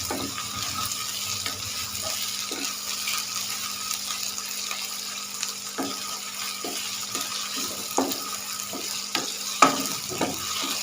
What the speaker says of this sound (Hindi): अच्छा सा फ्राई कर लिया 2-3 मिनट के लिए।